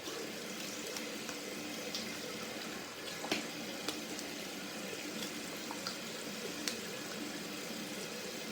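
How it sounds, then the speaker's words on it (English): Cold water from a tap runs steadily into a sink for a rinse, a faint, even hiss with a few small splashes and clicks, no voices. "Cold water."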